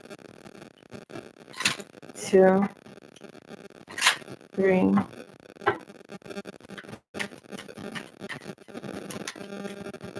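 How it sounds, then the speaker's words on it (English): Tarot cards shuffled by hand for a Cancer zodiac reading: a few short, crisp riffling bursts, close and moderately loud, between a voice counting aloud. "Let me shuffle 3 more times."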